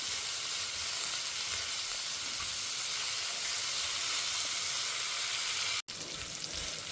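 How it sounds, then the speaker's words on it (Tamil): Bitter gourd sautés with salt and turmeric in a pan, a steady close sizzle and hiss that runs continuously, broken by one brief gap near the end. "பாவக்காய் பாருங்க நல்லாவே சுருளில் வதங்க ஆரம்பிச்சுடுத்து"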